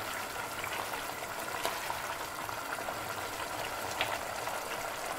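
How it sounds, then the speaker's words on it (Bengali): Milk and hot water boiling in a pot, a dense continuous bubbling and simmering close by, steady throughout with occasional small pops. "এটা ভালো করে সেদ্ধ করে নিতে হবে"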